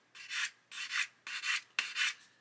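Sandpaper rubs a plastic 1/24 Airfix Spitfire Mk.IXc model kit in four quick back-and-forth bursts of close, dry rasping, with brief pauses between strokes.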